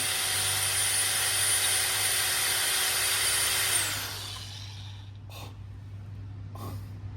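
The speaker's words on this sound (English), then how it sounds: "So we're gonna grind this off." An electric grinding tool grinding metal off a car part during a stage two install, a loud sustained whine that cuts off halfway, leaving a low hum and a couple of brief bursts.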